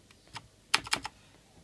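Clicky keystrokes on a Razer BlackWidow Ultimate 2013 mechanical keyboard: a few soft taps, then a quick cluster of three or four loud sharp clicks, close up with no talking.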